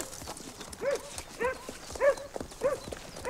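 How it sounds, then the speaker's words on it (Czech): On a farm estate, a dog barks repeatedly at horses in a quick, rhythmic series of sharp yelps, while hooves clop on hard ground beneath. "Ten pes ty koně ruší."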